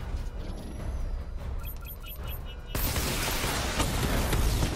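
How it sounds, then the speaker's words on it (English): Missile barrage firing in Batman: Arkham Knight, a dense burst of explosive rocket fire that starts partway through and sustains loudly to the end over game music and effects. "Missile barrage level 2 ready."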